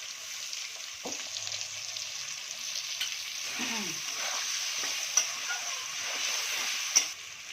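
Potatoes added to a curry fry and sizzle steadily in the pan, with stirring scrapes and a couple of sharp spoon taps against the vessel, a moderate close sound without speech.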